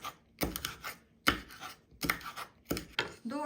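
Repeated chopping strikes, four quick bursts of dull knocks with scraping, close by and alone, as aloe vera is cut against a board with a wooden spoon.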